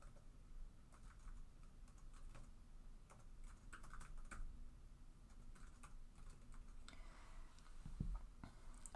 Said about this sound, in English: Excuse me while I type things.